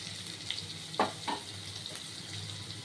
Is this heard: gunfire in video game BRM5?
no